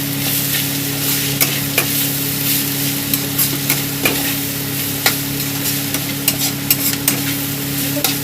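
Grated carrot stirred into potatoes in a frying pan while cooking stuffed capsicum, a steady sizzle with a hum beneath it and repeated sharp scrapes and clacks of the spatula against the pan.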